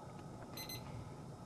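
A digital voltmeter gives a short, high electronic beep, a quick cluster of tones standing out clearly over a quiet room hum.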